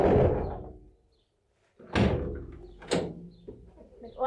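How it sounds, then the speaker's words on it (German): A Fiat Ducato campervan door is slammed shut before insulation, giving loud, heavy metallic thuds that come close together, each followed by a short rattle and echo inside the bare van shell. "Muss man die Tür zuschlagen."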